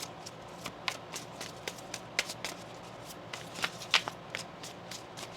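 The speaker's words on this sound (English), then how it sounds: "Let's get one more shuffle here." Tarot cards riffle and slap together in repeated quick bursts during a shuffle, fairly close and soft, with no talking over them.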